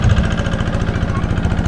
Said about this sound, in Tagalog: pinandar na yung makina